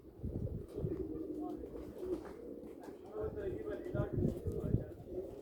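A flock of pet pigeons coos continuously at close range, low rounded calls overlapping steadily throughout, with people talking over them.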